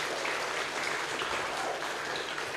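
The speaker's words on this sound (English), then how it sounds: "Please give a big round of applause to everyone here" At the close of a guest lecture on social media and mental health, an audience applauds steadily, a continuous wash of clapping, moderately faint and unbroken throughout.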